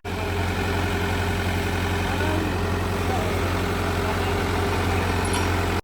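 Idling engine of a blue Fiat tractor at a village fair ground, with a steady low diesel rumble that is loud and constant throughout.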